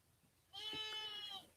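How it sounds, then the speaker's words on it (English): A young white sheep bleats once from somewhere behind, a single drawn-out wavering cry lasting about a second after a quiet lull, fairly faint and with no voices over it. "y'all hear that baby sheep in the background?"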